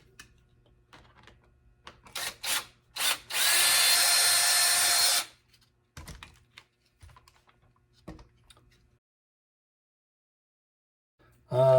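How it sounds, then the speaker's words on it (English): A power drill whirs in one steady burst lasting a couple of seconds. Scattered clicks and knocks of handling surround it, followed by quiet. "So we've got your hole drilled."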